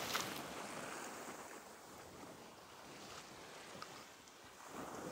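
Gentle ocean surf at sunset rolls in a low, even wash with faint wind noise, quiet and unbroken, no one speaking.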